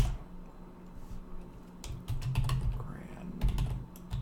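Typing on a computer keyboard to enter text descriptions into a spreadsheet, with clustered rapid key clicks in short bursts, close and clear, and a voice heard faintly at times.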